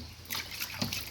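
Water trickles and drips while washers and caps from a cow milking machine are rinsed clean, a brief close sloshing with small splashes.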